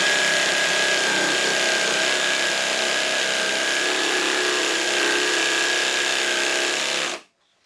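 Black & Decker Matrix saw fitted with a Diablo fast woodcutting blade, cutting wood under heavy load: a loud, steady buzzing whine held for about seven seconds before cutting off abruptly.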